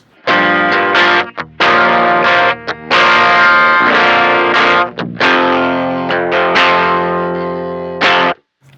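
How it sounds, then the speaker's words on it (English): An electric guitar through a Fuzz Imp fuzz pedal at minimum gain, set like a clean boost, plays bright, slightly gritty chords and riffs with short pauses between phrases, loud and up close, no talking. "At minimum, we're gonna get more of a clean boost type sound."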